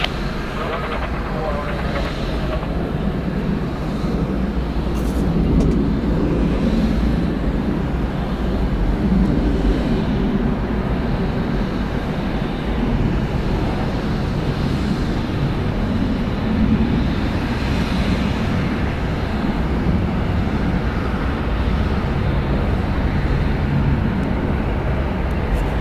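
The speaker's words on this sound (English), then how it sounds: "Departing Delta Airlines flight 1621, going to Gulfport, a Boeing 717, 18 years old." A Delta Airlines Boeing 717, 18 years old, taking off at Atlanta Hartsfield-Jackson airport, gives a steady broad jet engine roar that holds for the whole stretch, moderately loud and constant, with faint radio voices underneath.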